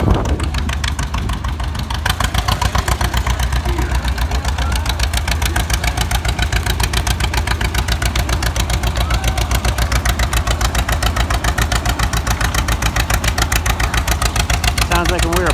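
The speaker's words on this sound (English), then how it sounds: "Heavy tractor, this guy." A heavy two-cylinder tractor on spoked wheels chugs loudly and steadily at an outdoor show, its rapid, even engine pulses running without a break and close to the listener.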